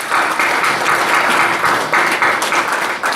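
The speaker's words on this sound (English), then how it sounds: "how about a round of applause for our auxiliary?" A conference hall audience at a state National Guard association gathering breaks into a round of applause for the auxiliary, a dense, steady wash of many hands clapping for about three seconds with no voices over it.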